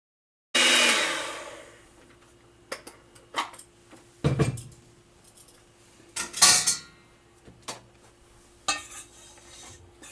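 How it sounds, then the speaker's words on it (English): Coconut cheesecake ingredients are mixed in a bowl, with an opening whir followed by irregular clinks, scrapes and knocks of a utensil against the bowl, close and fairly loud with quiet gaps and no talking. "Now I'm going to mix these ingredients."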